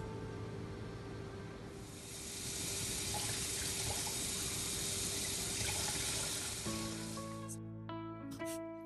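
Tap water running steadily into a sink while a kilogram of meat is washed and drained, a continuous close rush that swells slightly midway and cuts off near the end, followed by brief background music.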